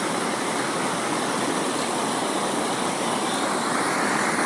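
Water from a hose line drawn from the Dumalon River in Tulungtong, Zamboanga City, gushes in a steady, dense broadband rush, close and constant for a few seconds, with no voices.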